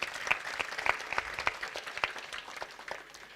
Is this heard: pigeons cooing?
no